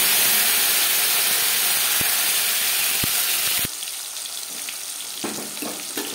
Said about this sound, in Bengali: ফোড়নে দিয়ে দেবো গোটা জিরে। 10 সেকেন্ড ভেজে নেওয়ার পর দিয়ে দেবো টমেটো।